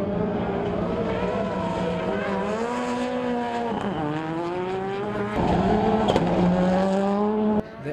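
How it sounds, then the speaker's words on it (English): A 600-horsepower rallycross race car at a Red Bull Global Rallycross event, its engine roaring loud and close with rising and falling revs through gear changes and no talk. "nothing gets the adrenaline rushing quite like a race car"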